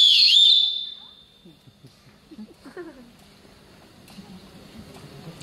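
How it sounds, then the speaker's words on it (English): A loud, shrill whistle blown by a butler character in a school stage performance of The Sound of Music, a single sustained blast followed by quieter talk and faint room noise. "I could respond to a whistle"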